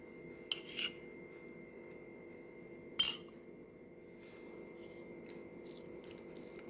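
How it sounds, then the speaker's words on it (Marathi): A spoon stirs yogurt into grated cucumber salad in a bowl, giving a few soft, scattered clinks and scrapes against the bowl over a quiet background, with no one speaking. "दही घालून छान मिक्स करून घ्यायचं आहे"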